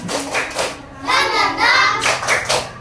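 A school class claps in a quick rhythmic spirit-clap pattern, mixed with chanting and lively group sound close by.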